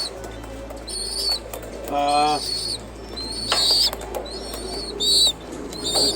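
Pigeons in a loft coo and warble in a mix of soft calls, with a brief flutter of wings and constant background hum.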